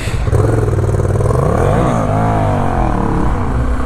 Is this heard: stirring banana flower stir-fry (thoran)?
no